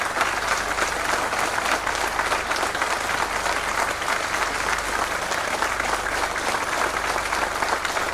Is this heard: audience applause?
yes